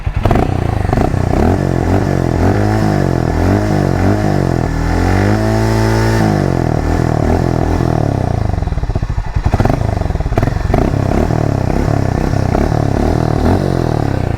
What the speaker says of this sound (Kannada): ಆ್ಯಂಡ್ ಎಕ್ಸಾಸ್ಟ್ ನೋಟ್ ಹಂಗೆ ಕೇಳಿಸ್ಕೊಂಬಿಡ್ರಿ